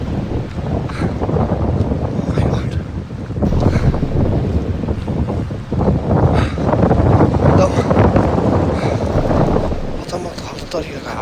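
Strong wind gusting on an outdoor hike, loud rushing buffets hitting the microphone in waves, with voices talking under it.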